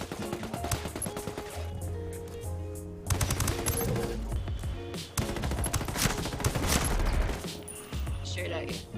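Rapid automatic gunfire from the Ghost Recon Wildlands video game rattles in sustained bursts, loud and close, with brief pauses between strings of shots.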